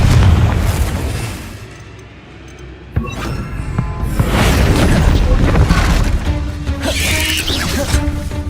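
Confringo explosive spell in Hogwarts Legacy: a sharp blast strikes midway and leaves a long rumbling, crackling tail, with game sounds and effects continuing loudly around it.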